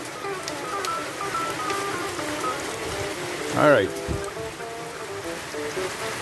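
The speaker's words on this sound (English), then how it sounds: "so let's go and see if we can get some coffee with all this rain that is down" Heavy rain pours down in a steady, dense hiss that fills the whole clip, with a brief spoken word near the middle.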